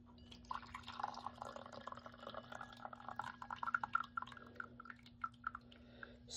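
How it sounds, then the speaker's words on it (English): Second steep of Yiwu mountain tea being poured, a faint, soft trickle with scattered small drips and splashes against a quiet indoor hum. "Alright, we're gonna pour our second steep."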